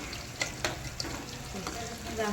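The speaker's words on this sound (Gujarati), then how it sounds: "તો પહેલાં તો ડુંગળીને તળવી પડે છે ભાઈ" Whole onions sizzle steadily in hot oil, a continuous crackling hiss with a few sharp clicks of a utensil stirring through the pan.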